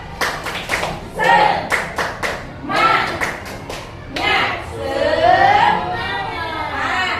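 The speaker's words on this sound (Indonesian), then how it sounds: "Tepuk semangat." A school class claps a rhythmic spirit-clap pattern in quick bursts of sharp, close hand claps, with children's chanting voices mixed in between and over the claps.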